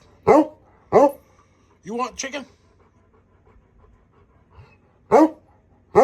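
A dog pants in several short breathy bursts close by, with a couple of soft barks or huffs mixed in; a person talks to it between the sounds.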